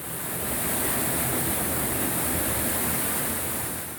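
Floodwater about a foot and a half deep rushing down a flooded street during an extreme storm, a loud, steady roar of churning water that holds constant throughout with no voices.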